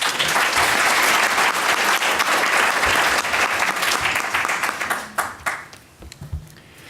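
An audience at a panel event on the health crisis in Venezuela claps to welcome the panelists, a loud, dense wash of applause that thins out into a few last claps.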